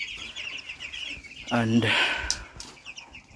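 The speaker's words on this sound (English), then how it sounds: "so I have baby chicken now" Baby chickens on a small home chicken farm peep and cluck continuously nearby in a rapid, chattering rhythm, with a brief louder burst midway and a single spoken word over it.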